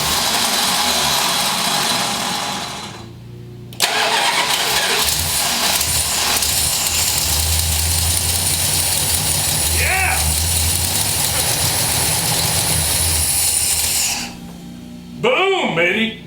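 A subscriber's Plymouth engine fitted with FiTech fuel injection cranks, catches and settles into a loud, rough idle with occasional backfires, running steadily before cutting out, with a voice speaking near the end.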